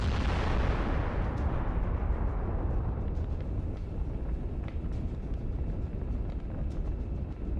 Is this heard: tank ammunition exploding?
yes